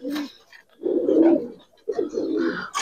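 Giribaz and coloring pigeons give a few soft, close coos in short bursts with quiet gaps between them.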